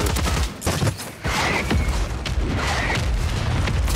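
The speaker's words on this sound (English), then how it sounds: "My own fucking mortar dropped." Mortar strike explosions in a Call of Duty match land as a dense, continuous barrage of loud blasts and crackling gunfire over about four seconds, with several sharper bursts standing out from the roar.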